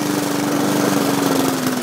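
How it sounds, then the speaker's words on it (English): A lawn mower engine drones loud and steady at close range, with a constant motor hum and no pauses. "it's just gonna be me and this here lawn mower making all the noise"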